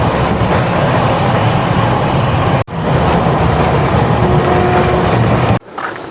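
Passenger train running between stations, a loud, dense continuous rumble and rattle heard from inside, broken by two abrupt dips, with faint tonal squeals partway through.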